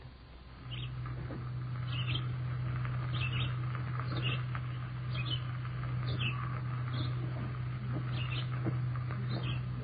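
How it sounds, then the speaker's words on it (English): A recorded bird call played back for an identification quiz, with repeated short high chirps over a steady low hum and hiss from the playback machine. "identify the birds from the calls you'll hear"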